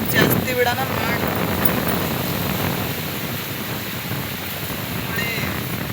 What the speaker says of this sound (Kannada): ಜಾಸ್ತಿ ಮಳೆ ಗಾಳಿ ಎತ್ತಲ್ರಿ